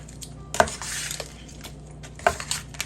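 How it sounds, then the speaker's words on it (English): Seasonings being mixed into shrimp in a bowl: two distinct clinks of a utensil against the bowl with soft scraping between, close and without talk. "go ahead and mix all those seasonings in there"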